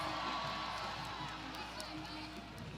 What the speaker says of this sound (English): Hey, everybody cheer loud on that Friday night.